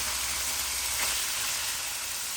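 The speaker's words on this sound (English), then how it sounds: "My oil's heated up. To that I'll add in my lamb." Washed lamb pieces hitting hot oil for Fiji-style lamb fried rice, giving a steady, loud, broadband sizzle and crackle that holds evenly throughout with no voices.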